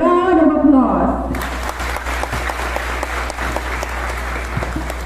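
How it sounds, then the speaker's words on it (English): A graduation ceremony audience breaks into applause for an honors student after a spoken introduction, a voice fading out at the start before steady, loud crowd clapping fills the rest in a large hall. "Let's give her a round of applause."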